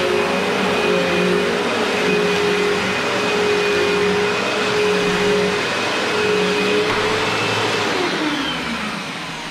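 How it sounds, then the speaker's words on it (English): A cheap upright vacuum cleaner runs indoors with a loud, steady motor whine and airflow roar, holding constant for several seconds before tapering slightly at the end. "This is actually a cheap vacuum"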